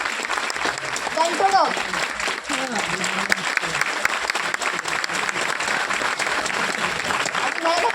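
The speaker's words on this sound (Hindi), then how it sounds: "एक बार जोरदार ताली होनी चाहिए" Audience applause fills a product presentation for Indian Ayurvedic goods, a dense steady clapping that holds for the full eight seconds, with a few voices briefly rising beneath it.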